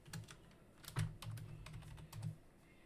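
Keys clack on a computer keyboard in short irregular bursts, with a few heavier thumps among the lighter taps; faint, close-miked, and without any voices.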